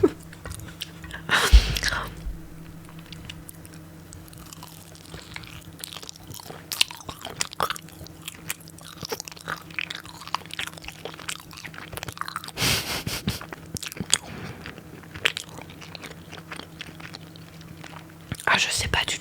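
Crunchy bites and wet chewing of fried chicken during a mukbang eating session, close to the mic, with loud crunches near the start and again midway, and speech heard between bites.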